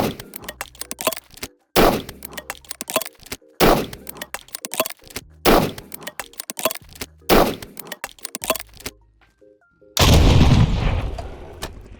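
Missile launcher in Fallout 4 firing repeatedly at a Deathclaw, each launch followed by a loud explosion, the sequence sped up into a rapid string of blasts and cracks, ending in a sustained roaring burst.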